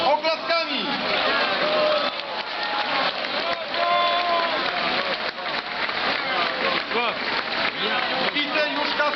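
A large outdoor crowd at a Warsaw rally marking the second anniversary of the Smolensk disaster applauds and cheers in a steady, rain-like roar, with shouting voices mixed in.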